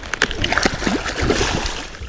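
A freshly caught fish, live-baited and unhooked, is dropped back into the water with a short close splash followed by sloshing and trickling, under steady background noise.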